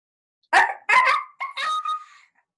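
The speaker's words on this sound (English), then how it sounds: "and the barking of the farmer's dog," A dog barks three times in quick succession, close and loud, with short sharp yelps and no other sound between.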